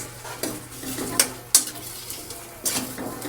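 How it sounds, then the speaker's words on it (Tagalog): A cooking pot of food seasoned with pepper and salt being stirred for a home lunch, with scraping strokes and a few sharp metallic clinks of the utensil against the pot over a soft sizzle, close and without talk. "Tapos haluin natin."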